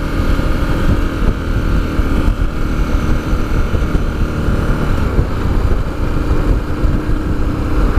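A 2017 KTM 1290 Super Adventure T motorcycle riding on twisty roads, its engine a steady, loud rumble with a constant drone and wind rush over the whole stretch, no voices.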